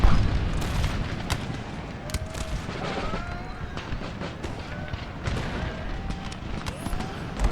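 Musket volleys and booming battlefield fire from Empire: Total War rumble continuously at moderate distance, with sharp cracks scattered through a dense, sustained roar.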